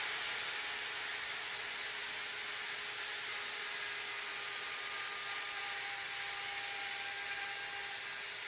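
Router guided by a pin along a dovetail template cuts a dovetail into a wooden board, a continuous high-pitched whine with steady cutting noise throughout, close and unbroken.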